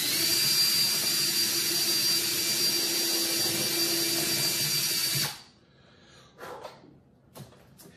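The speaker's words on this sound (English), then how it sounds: "So I'm gonna drill the hole for the piezo strip first." A power drill bores a hole for a piezo strip in the saddle area of an Ibanez Concord 645 vintage acoustic guitar, a loud, steady whine for about five seconds that stops abruptly, followed by a few faint handling taps.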